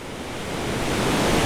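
Twin Falls in the Yoho Valley, heard from the very top of the waterfall, is a dense, roaring wash of falling water that is loud and steady and builds slightly over the short span.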